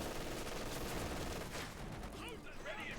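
Sustained heavy machine gun fire rattles on a snowy battlefield in Company of Heroes 2, steady dense bursts under continuous battle noise, fairly loud throughout the short stretch.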